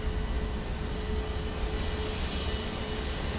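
A Fly By Wire A32X Neo airliner taxiing in Microsoft Flight Simulator, its engines giving a steady, loud broadband roar with a faint constant whine, even and unbroken throughout, no voices.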